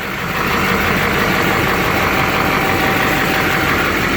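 A 2008 GMC Sierra 2500 HD with a Duramax diesel engine and about 175,000 miles idles steadily, a loud, close, continuous low rumble with a faint whine and no talking.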